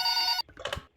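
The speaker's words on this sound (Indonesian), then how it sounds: "Dan ini ada yang nelpon kita" A telephone on a desk in a hospital nurses' station rings once in a loud electronic trill that cuts off, followed by the brief clatter and rustle of the handset being picked up.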